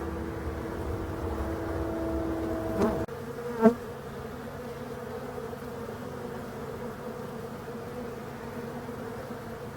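Honeybees work at a hive entrance, a steady close buzzing drone with a couple of brief louder passes of individual bees near the microphone, no talking.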